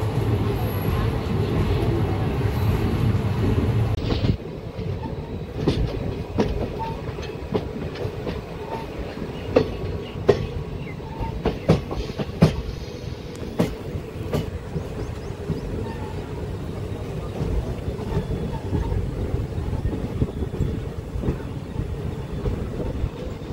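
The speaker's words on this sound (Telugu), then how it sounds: "మన ట్రైన్ అయితే స్టార్ట్ అయిపోయింది మన్నా మధురై జంక్షన్ నుండి" A passenger train from Madurai Junction toward Rameshwaram rolling along with a steady low rumble and repeated clickety-clack of wheels over rail joints, heard from inside the carriage.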